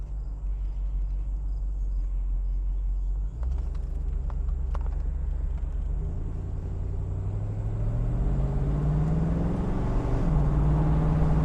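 A 1993 Corvette convertible pulls away and drives, its engine a low steady rumble that climbs through rising revs over about eleven seconds, heard from inside the car.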